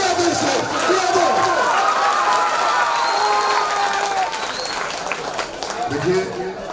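Crowd applause and cheering at a mushaira in Mumbra, a dense wash of clapping with voices calling out over it, holding steady throughout.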